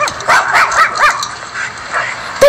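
A dog barks and yips in a quick run of sharp, loud barks, with a short whimpering, whiny tone near the end.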